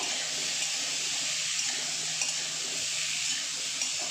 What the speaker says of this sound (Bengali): পেঁয়াজের সঙ্গে একটু নেড়ে নেব